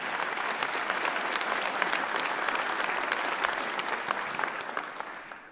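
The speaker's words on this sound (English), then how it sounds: "One more round of applause." Steady, dense applause from a large audience at a technical college commencement ceremony, continuous and fairly loud for several seconds before tapering slightly at the end.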